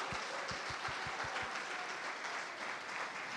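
A church congregation applauds in praise of Jesus, a dense, steady wash of clapping with a few sharper, closer claps standing out near the start and no talk over it.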